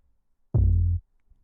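A single short, deep synth bass note shaped with an envelope to mimic an 808, from a UK garage production, booming alone for about half a second before cutting off into silence.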